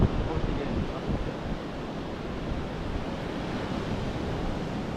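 Rising tide waves wash in on Sampan Beach at Cox's Bazar, a soft continuous surf hiss mixed with wind buffeting on the microphone, fairly faint and steady with no voices.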